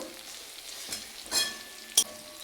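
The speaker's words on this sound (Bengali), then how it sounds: "পেঁয়াজ আর রসুনটা একটু ভেজে নিচ্ছি। এবার চলে যাচ্ছে টমেটো" Onion, garlic and tomato frying in a pan, a soft steady sizzle with a few sharp metallic clinks of a spoon against the pan, close and without talking.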